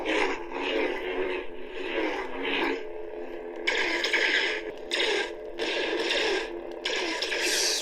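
An Artsaber lightsaber plays blaster-deflect and swing effects: a run of crackly, ratcheting electronic bursts, close and loud, repeating several times over about eight seconds with short gaps between them.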